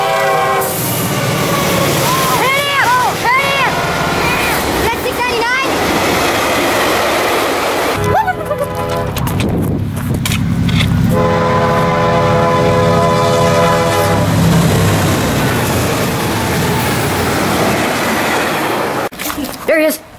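A hi-rail vehicle runs along railway tracks beside a train station, giving loud horn blasts and steady rolling rumble up close, with excited voices talking over parts of the passage.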